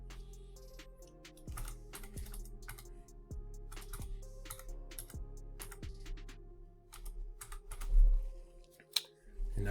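Keystrokes on a computer keyboard enter a password while setting up a Bitaxe Disruptor solo Bitcoin miner, a steady run of close, light clicks with a couple of louder taps near the end and no talking.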